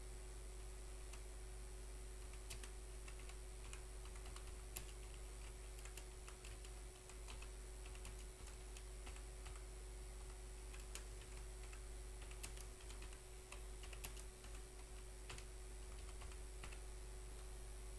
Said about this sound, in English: You can directly enter the text using the keyboard.